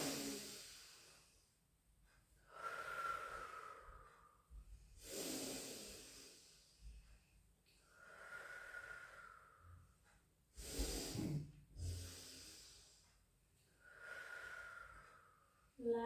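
Deep, slow breaths during a pilates stretch, four long airy inhale-exhale cycles with quiet pauses between them, close and fairly soft with no talking.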